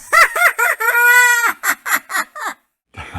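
A rooster crows as a comic sound effect after a joke, a loud nearby series of short clucking calls around one long drawn-out crow, ending with a brief burst of noise.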